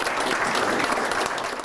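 Steady applause fills a district courtroom at a county law and justice center, dense continuous clapping from a group of people, loud and close, with no talking.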